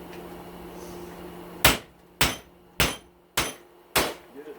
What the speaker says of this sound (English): I've let the vise do the work. You know, just pound out the steel.